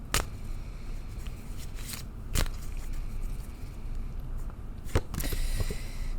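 Tarot cards being shuffled by hand, soft papery riffling under sharp snapping clicks at irregular intervals, close and fairly quiet with no talking.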